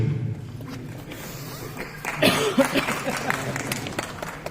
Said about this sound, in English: This clap is for machine or the presenter?